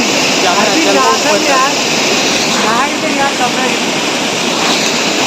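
The Kurushnar waterfall roars with a loud, constant rushing wash that fills the scene, while people's voices talk faintly over it.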